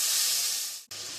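Peeled, washed onions for sambar rice frying in a pan, producing a steady close hiss and sizzle that dips briefly near the end and resumes.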